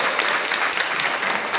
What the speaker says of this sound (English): Let's give these guys another huge round of applause.